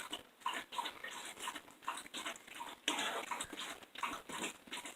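A dog goes wild over macaroni and cheese, snuffling, licking and whining excitedly in rapid, rhythmic bursts at close range.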